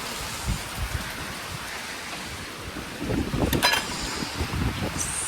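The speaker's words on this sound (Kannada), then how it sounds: "ಸಖತ್ ಮಳೆ ಹೋಯ್ತಾ ಇದೆ ಮಳೆ ಗಾಳಿ" Heavy rain falls with gusting wind, a steady rushing hiss that swells louder in the second half with a few brief sharper spatters.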